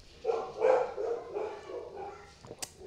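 Several dogs bark and yip in a quick, loud, uneven run of overlapping calls that fades toward the end, with a brief sharp click near the close and no talking over it.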